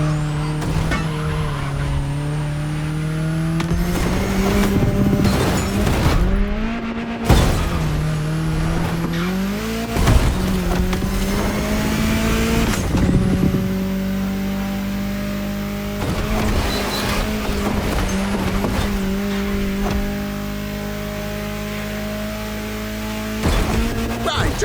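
A car drives through a state capital's city streets in The Crew Motorfest, its engine revving up and dropping repeatedly through gear changes, with occasional tire squeals, loud and close throughout.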